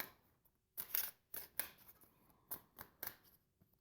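Dixit cards are shuffled and drawn at close range, giving a few quiet, crisp card slaps and riffling snaps in short separate bursts with gaps between them.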